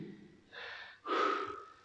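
Heavy breathing during an abdominal and core workout, with two bursts of loud, hissing exhalation or gasping, the second stronger and closer, separated by a brief pause.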